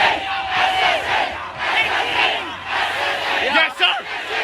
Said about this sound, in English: They all came together in a large crowd in the middle of New York City.